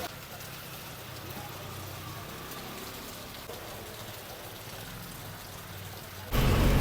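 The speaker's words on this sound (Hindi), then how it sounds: "बाहर बहुत तेज़ बारिश स्टार्ट हो चुकी है" Heavy rain drums steadily on the outside of a bus in a Nepal village during the rainy season, a dense continuous hiss with low rumble, ending in a sudden louder burst.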